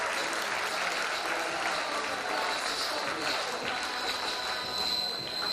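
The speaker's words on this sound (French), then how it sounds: "on peut l'applaudir bien fort" Audience applause at a climbing competition final, a dense, steady clapping that fills the whole span at moderate loudness, with crowd noise mixed in.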